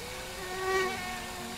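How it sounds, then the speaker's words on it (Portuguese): A mosquito buzzes in the video game My Summer Car, a thin, whining drone that swells briefly and then fades, alone and fairly close. "Peço desculpas pelo barulhinho chato do mosquito."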